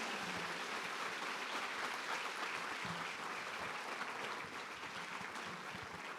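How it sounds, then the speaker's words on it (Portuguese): A church congregation at an evening service applauds steadily as a dense, sustained wash of clapping that holds even for about six seconds, fairly distant and without voices on top. "Dê o seu melhor aplauso a Jesus"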